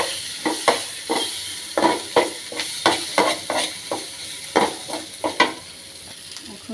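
Bay leaves fry with salt and black pepper powder in a pan for a beef brain curry. A soft sizzle runs underneath while a utensil scrapes the pan in a quick, regular rhythm of a dozen or so strokes, with no talking.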